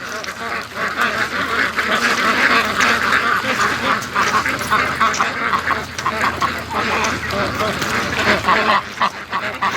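A flock of free-range ducks returning home on a lake fills the air with dense, continuous overlapping quacks and honking calls, loud and close throughout.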